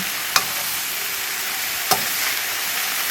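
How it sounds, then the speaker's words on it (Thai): Garden-picked vegetables stir-fry in a pan with little oil, giving a constant loud, close sizzle while a spatula scrapes and taps a few times, with no voices. "ผัดไปเรื่อยๆจนสุก"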